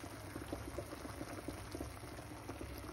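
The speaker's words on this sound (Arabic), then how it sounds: "الطاجين ديالي تيبقبق." A tagine simmers on the stove, its contents bubbling in a soft, steady, close-up burble of small pops over a low continuous hiss, with no talking.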